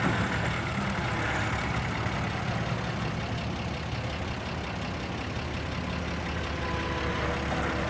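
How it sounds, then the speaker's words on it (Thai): Excavator engine idling steadily with a low, continuous diesel rumble, heard at moderate distance without revving and without speech. "ไม่ต้องเร่งเครื่องครับ เครื่องเดินเบายังบิดตัวสบายเลย"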